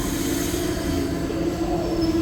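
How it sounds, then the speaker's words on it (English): A MARC commuter train rolls through New Carrollton station while another train passes at the same time, a loud continuous roar with a high steady wheel squeal close by. "Oh, a train meet. There's a MARC train at the same time."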